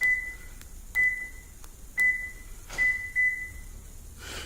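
Remote key fob locking a 2008-2010 Toyota Tundra three times in a row: a series of short, clear electronic chirps spaced roughly a second apart, each with a brief click, close by with no talk.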